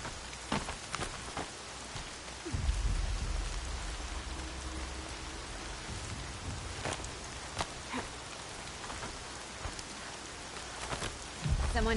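Steady rain patters across surfaces in a continuous wash in the video game Horizon Zero Dawn, with scattered sharper drops and a few low rumbles underneath.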